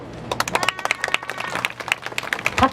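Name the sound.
applause at a Wednesday demonstration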